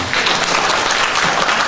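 A short burst of dense applause from a seminar audience, loud and even throughout, with no voices over it.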